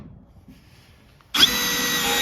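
A cordless drill gun with a 1/4 inch bit drives screws into the 2x4 supports of a sliding barn door, starting suddenly after a quiet moment and whirring loud and steady to the end.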